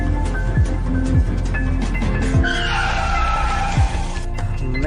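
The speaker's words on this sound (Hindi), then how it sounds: "एक तो तुम इस खटारा सी वैन को इतनी फास्ट चला रहे हो" A battered old van driven fast, with tires squealing in repeated sliding bursts over a loud, steady engine roar, close and continuous with no talk.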